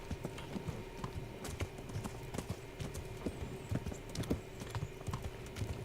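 Steady clip-clop of horse hooves from the video game Kingdom Come: Deliverance, a continuous even rhythm of hoof strikes close by, with no one talking.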